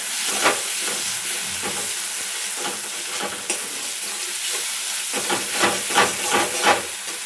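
Spice paste (masala) for a jackfruit and potato curry is being fried in a pan. It makes a loud, continuous close-up sizzle and hiss, with repeated bursts of stirring and scraping that grow busier toward the end.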